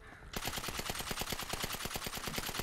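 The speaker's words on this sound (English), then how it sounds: "This new machine gun." Rapid automatic machine gun fire in the GTA video game, a steady stream of evenly spaced loud shots starting after a short quiet moment and continuing without pause.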